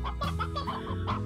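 Briar hen from the Slime Rancher video game clucking in steady short bursts over a continuous game music bed, fairly loud and close, with no talking.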